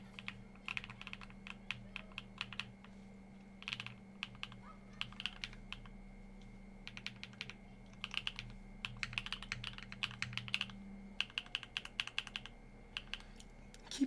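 Keystrokes on a NEO65 Cu mechanical keyboard fitted with HMX Hades switches and WinMix Cream Blue keycaps, typed in steady quick bursts with short pauses, close and clear over a low steady hum.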